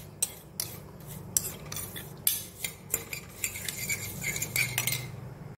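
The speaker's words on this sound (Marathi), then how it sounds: "हे फिरवायचं, नाहीतर मग खालच्या शेवया जास्त लाल होतात" Vermicelli stirred in a metal pan with a utensil, giving repeated sharp scrapes and clinks of spoon against pan in an uneven rhythm over a faint background sizzle, close and clear.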